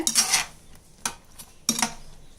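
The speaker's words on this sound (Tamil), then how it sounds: "இந்த சுகர் சிரப்பில் இதை கொஞ்சம் நல்லா நீங்கள் இது போல் மிக்ஸ் பண்ணி விட்டுருங்க" A spoon stirs rava sweet pieces through sugar syrup, giving three separate clinking, scraping strokes close by with short pauses between them, and no talking.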